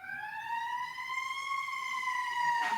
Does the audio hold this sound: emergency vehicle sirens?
yes